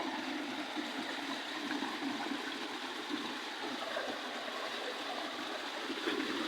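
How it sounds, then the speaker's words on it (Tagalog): Strong water pours and rushes continuously at a construction site in Sorsogon City, a steady broadband flow that sounds fairly faint, with no voices. "malakas itong tubig na ito guys dito."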